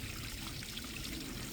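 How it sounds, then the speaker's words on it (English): Rainwater pours steadily as a small waterfall down a rock face on a hiking trail after heavy rain, a continuous close splashing rush with no voices. "this rock face here has turned into a little waterfall"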